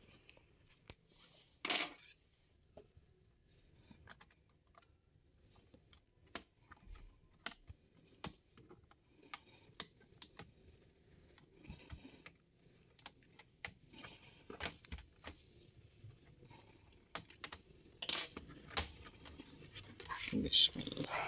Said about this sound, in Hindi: अब ये इसका कीबोर्ड ओपन कर लेंगे